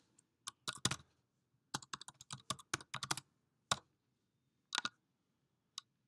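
Keys tapped on a Lightspeed Kounta POS system to enter order notes, heard as close, crisp clicking in short irregular bursts separated by brief pauses, with no talk.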